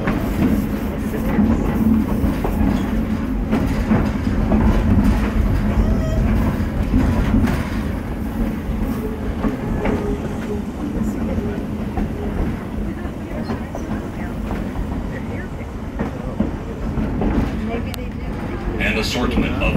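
A vintage train on the 1880 Train heritage railroad near Keystone, South Dakota, rolls along with a steady low rumble and a faint clickety-clack of wheels on the rails. A voice is present, speaking over the train.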